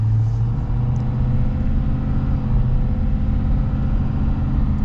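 Big Power Stroke diesel in a 2024 Ford Super Duty pickup drones steadily from inside the cab while driving, a continuous low rumble with a slight swell in revs and no talking.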